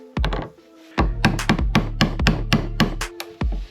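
A 300-gram blacksmith's hammer striking a chisel into wood while cutting dovetail joints, a run of about a dozen sharp, close knocks with short ringing tails in an uneven rhythm, no speech.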